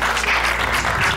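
A studio audience on a TV cooking competition applauds in a brief, dense burst of clapping with no voices over it.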